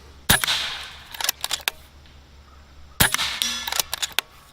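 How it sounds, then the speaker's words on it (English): Two sharp, loud gunshots about three seconds apart are fired into a 2x4 board, each followed by metallic clinks and rattles. The setting is an outdoor range, and nobody speaks. "I want to shoot that bare spot there so we can see the camera on the back if it penetrates through all the way"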